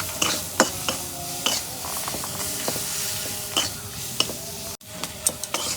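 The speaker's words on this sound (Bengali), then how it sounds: "হলুদ তেল দিয়ে মশলাগুলো কষে নেই" Spices with turmeric sautéed in oil, with frequent clicking scrapes of a spoon against the pan over a soft sizzling hiss, close and without talk.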